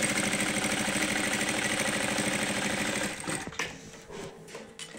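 A sewing machine stitches cotton housecoat fabric with a fast, even, close mechanical whirr and rapid needle clatter that runs for about three seconds, then stops, leaving faint handling noise.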